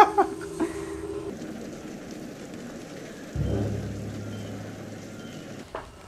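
Rain falls in a television show scene as a steady hiss of downpour on surfaces, with a low rumble swelling partway through and brief tonal sounds at the start, no talk.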